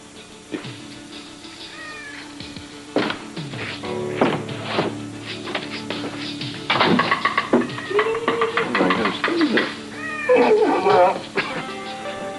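A cat meows several times in a domestic scene, its rising calls and a drawn-out wail coming close and clear among light knocks and thuds, with people talking around it.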